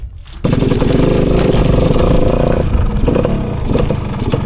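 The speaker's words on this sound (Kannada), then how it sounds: "ಇದು 100cc 2 ಸ್ಟ್ರೋಕ್ ಇಂಜಿನ್." A 1995 Kawasaki 100cc two-stroke motorcycle engine bursts into a loud, close, buzzing run after a brief quiet start, with a raspy, crackling tone that dips slightly near the end.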